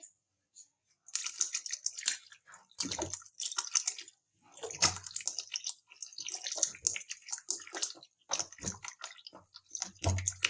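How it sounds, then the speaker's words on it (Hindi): Water is poured into a kadhi pakora mixture in a home kitchen, producing irregular splashing and sloshing in bursts with brief pauses, close and moderately loud. "अब इसमें हम पानी ऐड करेंगे।"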